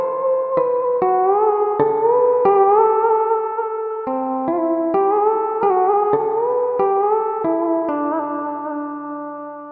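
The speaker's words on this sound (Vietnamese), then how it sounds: "Tiếp theo đây là tiếng đàn bầu." A đàn bầu monochord plays a slow melody of sustained, sliding notes with pitch bends, clearly and fairly loud, no voices.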